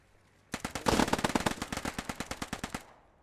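Sustained automatic bursts from an MP40 submachine gun in the WWII shooter Post Scriptum, a rapid run of about twenty close, loud shots lasting around two seconds and then cutting off abruptly.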